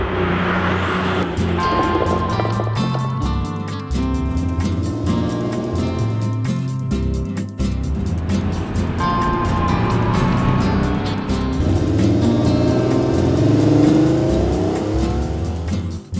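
A 1978 Porsche 930 Turbo, the first 3.3-litre version, runs and revs loudly and close by, its engine note rising and falling in steady surges for the whole stretch with no talking.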